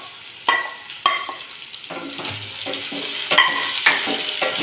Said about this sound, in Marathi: आता टाकूया ह्याच्यात कापलेली भेंडी